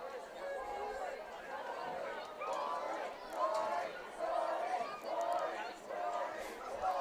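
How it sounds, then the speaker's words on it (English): A crowd at a Spanish Fork versus Salem Hills girls soccer match cheers and shouts for Spanish Fork, a steady roar of mixed voices swelling in waves. "Crowd getting behind Spanish Fork"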